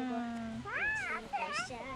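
A cat gives two or three drawn-out, rising-and-falling meows close by, clear over a soft background hum outdoors at a campsite.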